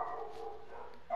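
Dog barking inside the GTA 5 game world, a steady muffled bark-like tone running throughout at moderate distance, with no talk over it.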